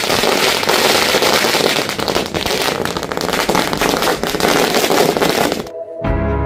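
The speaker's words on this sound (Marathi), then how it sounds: "फटाक्यांची आतिषबाजी करून आनंद उत्सव" Dense, continuous crackling bursts of firecrackers go off loudly at a BJP celebration in Navapur, an unbroken rapid barrage that cuts off abruptly near the end.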